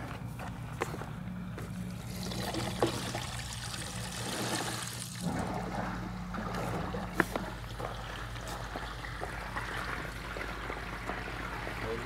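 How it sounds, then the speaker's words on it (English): Water flowing through a pipe into a tank, trickling and pouring steadily in the background, a faint continuous flow with a low hum and occasional small knocks. "Right now we can hear the water."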